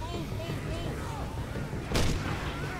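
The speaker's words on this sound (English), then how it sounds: "I got the grenade launcher." Grenade launcher firing in the Left 4 Dead zombie shooter: a single loud broadband blast rising out of steady game noise, with a horde approaching and brief murmured talk nearby.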